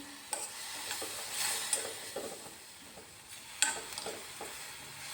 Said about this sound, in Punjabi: ਹੁਣ ਆਪਾਂ ਇਹਨੂੰ ਚੰਗੀ ਤਰ੍ਹਾਂ ਨਾਲ ਜਿਹੜੀ ਸੌਂਫ ਆ ਇਹ ਇਹਨੂੰ ਭੁੰਨ ਲਾਂਗੇ